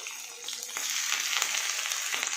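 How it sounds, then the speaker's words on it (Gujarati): Finely chopped green chili and grated ginger frying in a tempering for Gujarati dal, a bright, hissing sizzle that swells after a moment and carries on with light crackles, close by. "હવે આપણે એક લીલું મરચું ઝીણું કટ કરેલું નાખીશું થોડું આદુ છીણીને નાખીશું"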